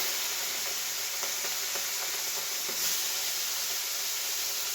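Large shrimp fry in hot oil in a pan, giving a constant bright sizzling hiss with small crackles and pops, close and steady, with no talking.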